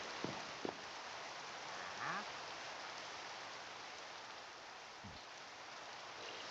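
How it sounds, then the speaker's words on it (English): Steady rain hisses as a continuous broadband wash in the Minecraft video game, with a few faint clicks and soft tones over it. "And it's raining."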